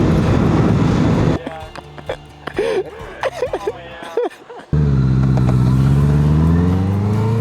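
A car engine revs loudly with rising pitch, drops into a gap of uneven sputtering and brief quiet, then roars up again; a voice gasps and talks in between.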